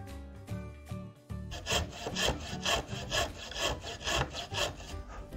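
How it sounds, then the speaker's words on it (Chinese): A coping saw cuts through wood during a woodworking lesson. After a few hesitant strokes, it settles into a steady back-and-forth rhythm of rasping pushes and pulls, close and alone, with no talking. "那我们现在要开始锯切哈。"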